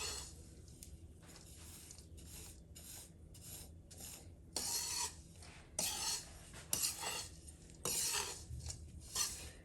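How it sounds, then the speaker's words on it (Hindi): A ladle scrapes and rasps through dry panjiri in a pan with the gas off, producing repeated gritty stirring strokes in an irregular rhythm, fairly close but soft. "और हम अब इसको मिक्स कर रहे हैं सारी पंजीरी को"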